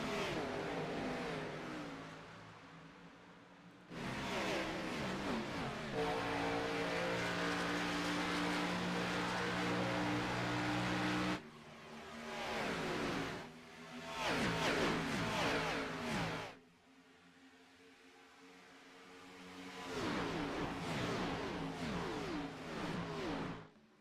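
Race cars in a racing video game roar away at the green flag of an Xfinity Series race at Charlotte Motor Speedway, engines revving loudly in waves with brief drops between bursts, no talking.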